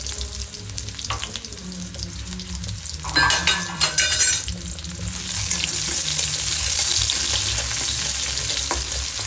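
Bay leaf and whole cumin hit hot oil, bursting into a loud crackling sizzle midway that settles into a steady frying hiss, with quieter kitchen clatter before it.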